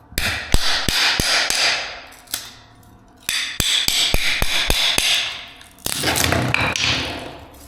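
Hammer blows and prying pop nailed pieces off a concrete floor ahead of a luxury vinyl plank install, sharp loud bangs in quick bursts with cracking and creaking between them, no talk.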